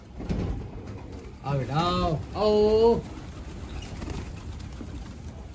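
Hyderabadi pigeons coo in short rounded bursts at a pigeon loft, while a man calls out to the birds in a coaxing voice over steady background noise.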